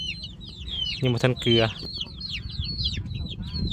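Chickens cluck and chatter close by. A voice speaks briefly over them partway through.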